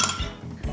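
A small saucepan is picked up and set down in a home kitchen while cooking diced apples, giving two short metallic clanks close by with no talk.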